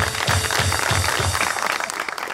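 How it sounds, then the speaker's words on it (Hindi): Audience applause breaks out in a studio talk show, a steady wash of clapping with a few rhythmic thumps early on, tapering slightly toward the end with no voices over it. "तालियां"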